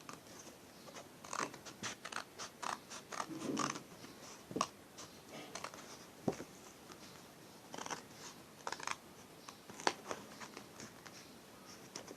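Scissors cut fabric for a homemade face mask, heard as faint, scattered snips and rustles in short irregular clusters, close but quiet.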